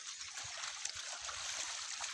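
Water running in a shallow village stream, a continuous bright rush and gurgle with small splashes as a child plays in the flowing water, steady and close throughout.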